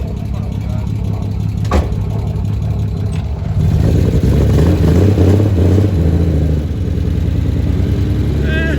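A BMW E36 engine runs while the car is driven, a steady low rumble that swells louder in the middle, with a voice talking over it.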